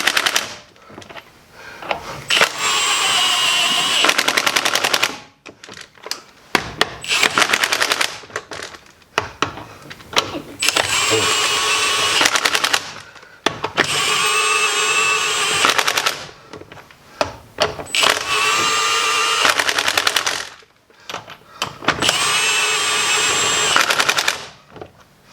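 Milwaukee M18 High Torque 2767 impact wrench hammering on car lug nuts set to a 100 foot-pound torque limit, four loud close bursts of rapid rattling impacts separated by short pauses.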